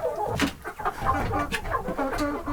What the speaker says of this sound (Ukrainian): Отакі вони у нас тут півні і курочки